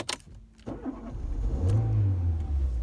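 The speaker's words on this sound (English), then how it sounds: "I'm going to start the car." A car engine started with a key: a short click and crank, then the engine catches and settles into a loud, steady idle close by, with no talking.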